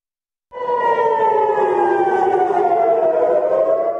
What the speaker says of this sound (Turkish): Başkent Tel Aviv'de sirenler çaldı, halk sığınaklara koştu.